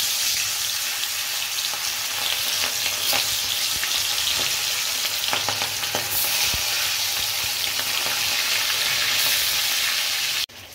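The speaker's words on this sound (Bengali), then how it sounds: "আমি এখন মাছগুলো ছেড়ে দেবো" Small tangra fish hiss and sizzle loudly in hot oil in a wok, with a dense, steady frying roar and occasional pops and utensil scrapes, and no talking.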